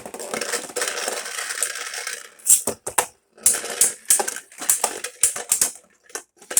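Beyblades from a Motor Strike set, Lucifer against Hyperion, clash in a battle stadium with dense metallic rattling and rapid sharp clicks. The collisions come in uneven bursts that grow choppier after a brief lull, with no voices.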